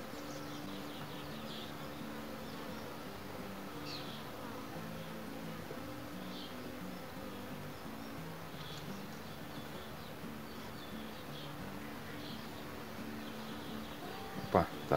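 A steady, low hum of many honeybees buzzing close by while a hive split is formed, continuous and fairly soft, with faint scraping near the end.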